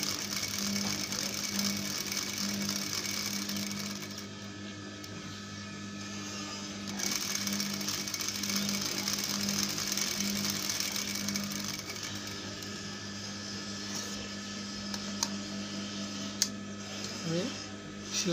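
A sewing machine stitches a kameez neckline in a long, steady mechanical whir, its rhythm continuing almost the whole way before a brief pause and a few clicks.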